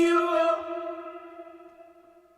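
A sustained harmonic tone rings out and slowly decays with a long, washy reverberant tail, sounding heavily drenched in reverb.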